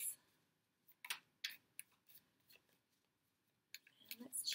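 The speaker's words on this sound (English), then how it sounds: "Just shuffling your cards." Tarot cards being shuffled by hand, a few short crisp riffles and slaps in bursts separated by quiet gaps, close and fairly soft.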